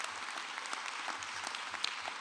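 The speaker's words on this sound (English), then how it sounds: "All of you, give yourself a round of applause" Steady clapping from a crowd at a dental school convocation, a dense patter of many hands at moderate level with no voices over it.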